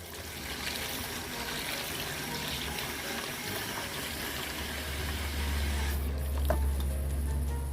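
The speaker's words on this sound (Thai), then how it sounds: "แล้วนำน้ำเปล่านะครับ ใส่ลงไปรวมเลยครับ" Plain water is poured into a container holding laundry detergent, giving a steady close splashing and trickling that grows fuller and lower toward the end.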